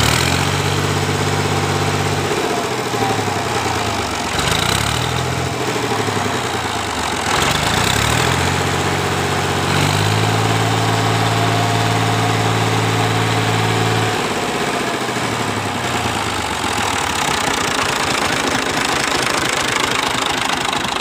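A 1981 Fiat 480 tractor engine, in good running condition, idles loud and close with a steady mechanical knock, its pitch rising and falling slightly over a long stretch.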